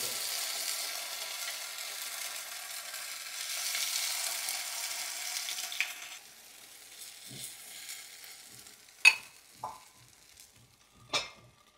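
Fasting-style appe of bhagar and sabudana sizzle and fry in an appe pan, a steady crackle for about six seconds that then thins to a quieter sizzle broken by a few sharp clinks of utensils.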